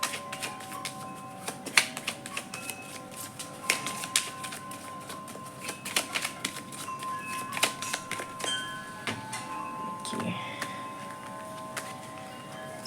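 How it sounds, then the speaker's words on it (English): Lenormand cards are handled and picked from a deck, giving a dense stream of small clicks, taps and shuffling rustles with a faint tonal hum behind. "here are my Lenormand cards, and I'm going to pick 3 cards"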